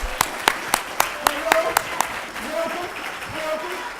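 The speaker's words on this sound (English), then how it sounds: "How about a round of applause for Melvin?" At a university business pitch competition, a small audience gives a few steady, evenly spaced claps for a finalist, fading into a quiet room murmur with someone talking briefly.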